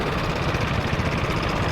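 KTM Duke 390 engine with a cam chain tensioner issue running steadily at close range, a dense continuous mechanical drone with a faint rapid ticking texture, alone with no talk.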